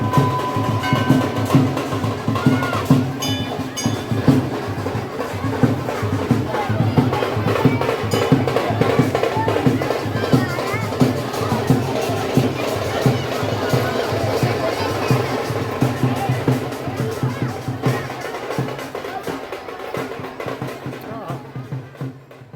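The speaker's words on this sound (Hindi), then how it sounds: "यहाँ औरतों की भारी भीड़ जुटी।" A dense crowd of women gathered at the Ashtabhuji temple in Shivpur, Varanasi, during a nirjala fast, their steady chatter and babble loud and continuous throughout, fading slightly near the end.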